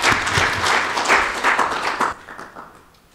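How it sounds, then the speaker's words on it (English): Conference delegates at a regional anti-corruption meeting give a round of applause. The clapping is loud and fairly close, then fades out abruptly after about two seconds, leaving near quiet. "A round of applause,"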